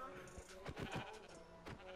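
Several sheep bleats from Minecraft, a few short nasal cries spread across the moment, with voices talking over them.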